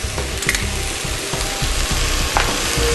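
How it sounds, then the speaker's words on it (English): Zucchini and other vegetables sautéing in a pan give a continuous sizzle with scraping, clacking stirring strokes on top, close up and without talk. "So I'm going to saute this all up"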